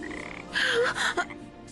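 A frog croaks in a short, buzzing burst over steady background noise, moderately close and fairly quiet, with no voices.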